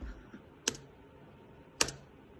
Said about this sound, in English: Now all you have to do is just click your space bar.